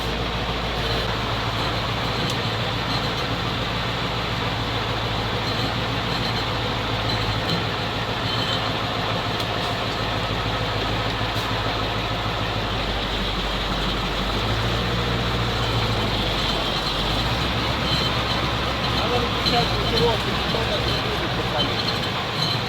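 A ZIL truck engine labours while driving off-road, a steady low rumble held close and loud throughout, with a faint shift in tone partway through and no talk over it.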